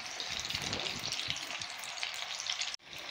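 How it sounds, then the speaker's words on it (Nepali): Galawat kebabs fry on a slow flame in a pan, making a dense, continuous sizzle and crackle at close range that holds steady, with one brief dip near the end. "कबाब अब देखें फ्राई होना शुरू हो गए हैं, हम इसकी फ्लेम को मीडियम से स्लो पे लेके आ जाएंगे और इसे फ्राई करेंगे।"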